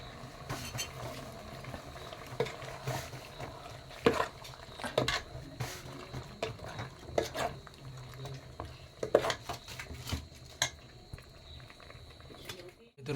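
Chicken curry coated in goda masala paste is stirred in a pot, giving repeated scraping and clanking strokes against the metal under ongoing conversation and background noise.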